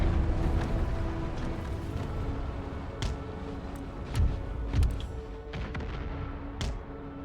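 Cannon fire in the strategy game Empire: Total War, with several dull booms and sharp cracks at irregular intervals over a rumbling battlefield background.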